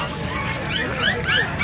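Several dogs bark and yip over one another at a busy animal market in Bocaue, Bulacan, where dogs such as Pomeranians and Dachshunds are sold. The yapping is high and continuous, with crowd noise and talk mixed in.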